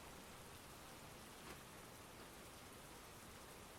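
Soft, steady rain falls in an unbroken hiss, fairly faint and even throughout, with no voices.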